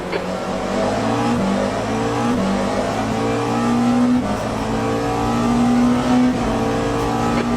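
Race car engine in the sim racing game Le Mans Ultimate pulling out of the pits, a loud steady drone rising and shifting in pitch as it accelerates, continuous and close throughout.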